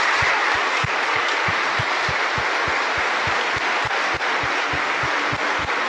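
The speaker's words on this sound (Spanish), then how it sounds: "¡Fuerte el aplauso a la Virgen Santa!" A church congregation at a Guadalupe novena in Fresnillo applauds the Virgin: a loud, dense, sustained wash of clapping, with a steady rhythmic low thump beating beneath it throughout.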